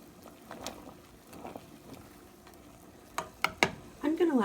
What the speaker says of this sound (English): I'm just going to take a wooden spoon and swish it around a